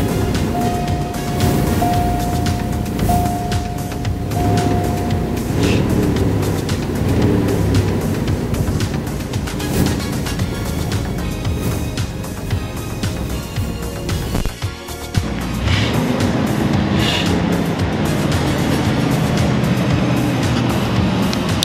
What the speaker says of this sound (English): This has a V8 in it, right? And when you start it and you hit the gas,